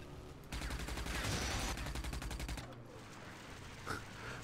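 A machine gun in the video game Rage fires a rapid sustained burst of about two seconds, then cuts off into quieter game ambience with a brief sharp hit near the end.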